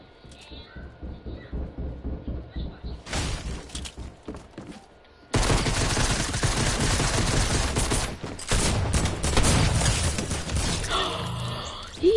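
Shotgun fire in a video game: loud, dense bursts of gunshots that start sparse, then erupt into a sustained, rapid volley with shattering impacts, and a voice talks over parts of it.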